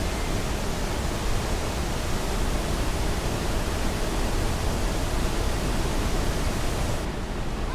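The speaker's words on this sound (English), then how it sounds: "the cold, the wet of the waterfall, the real drama of moisture and noise" An indoor waterfall pours inside the cooled conservatory at Gardens by the Bay, a dense, constant roaring wash of falling water, loud and close throughout with no voices.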